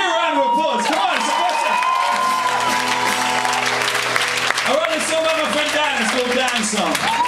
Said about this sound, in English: Give me a round of applause, come on!